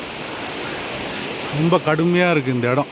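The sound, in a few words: floodwater from the Pennaiyar river rushing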